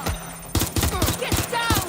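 Enemy gunfire in the video game Watch Dogs Legion, a rapid burst of close, loud automatic shots cracking in a steady rhythm for over a second, with other game sounds mixed underneath.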